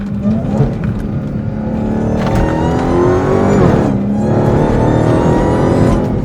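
A Dodge Hellcat fitted with a new exhaust accelerates hard from inside the cabin, its loud engine note climbing through rising revs, dipping at a shift, then climbing again.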